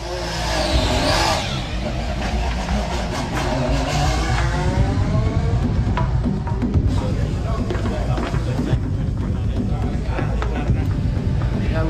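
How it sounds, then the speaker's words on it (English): A new Ferrari Formula 1 car pulls out of the garage with Kimi Raikkonen at the wheel, its engine revving steadily and loud throughout, with a crowd and voices murmuring underneath. "C'est Kimi Raikkonen qui sort pour la première fois la nouvelle voiture du garage."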